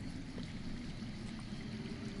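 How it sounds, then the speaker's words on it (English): Faint, steady trickle and pour of underground water flowing in a Game of Thrones game, a continuous soft wash heard at a distance with no talking over it. "I hear water. From underground."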